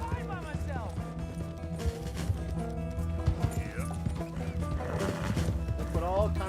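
Horses in Red Dead Redemption 2 gallop with rapid clip-clop hoofbeats and give a couple of whinnying neighs, mixed with game music and effects while voices talk over it.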